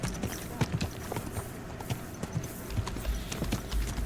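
A horse's hooves clip-clop in a steady, close rhythm as it moves along in Kingdom Come Deliverance II, with a low murmur of background sound underneath.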